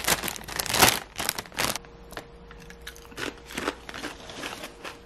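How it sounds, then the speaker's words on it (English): A bag of Doritos crinkles loudly up close, with crackling, tearing plastic at first, then quieter rustling and crunchy bites in uneven bursts, with no talking. "I got myself some Doritos."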